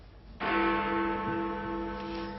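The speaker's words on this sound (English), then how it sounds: "London's most famous bongs are being replaced by those from Rochdale in Greater Manchester." Big Ben, London's famous clock bell, strikes a single deep bong that rings on with a long sustained hum, heard alone and clearly.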